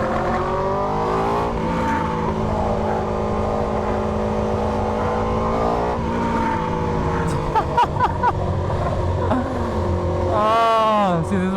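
A car fitted with an SC GP22 aftermarket exhaust drones and revs up and down, with sharp exhaust pops and crackles echoing between parked cars near the end, a voice briefly audible over it.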